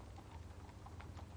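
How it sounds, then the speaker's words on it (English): Horse hooves clip-clop at a steady, even walking pace, faint and set back under a low background rumble, with no voices. "Nervy horse, that one."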